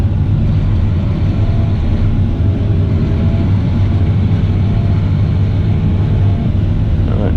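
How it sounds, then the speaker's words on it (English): A Fendt 1050 tractor reverses with a plough raised, giving a steady, loud, even engine rumble heard from inside the cab, with no talking. "lift the press up out of the way while we scratch the first mark, and we'll just drive backwards now"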